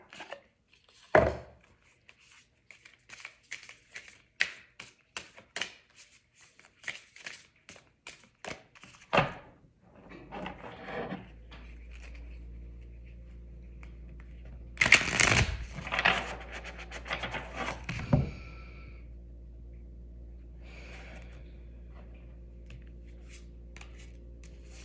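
Oracle cards from a Universe Has Your Back deck shuffled by hand: scattered soft taps and slides of card stock, some louder thumps and a brief riffle, close by and quiet, with no speech.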